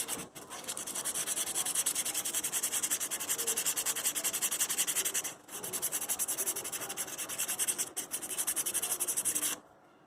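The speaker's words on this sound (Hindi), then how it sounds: "देखिए, मैं ब्रश से सारी डस्ट को यहाँ से निकाल रहा हूँ।" A brush scrubs brake dust off the disc brake of a Bajaj Discover 125 ST motorcycle in fast, steady, close strokes, a continuous raspy scratching with two brief pauses before it stops.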